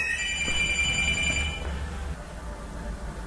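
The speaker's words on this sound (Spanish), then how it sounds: "Vaya, ahora el teléfono." A telephone rings with a bright, trilling electronic tone, then stops partway through, leaving low room noise behind.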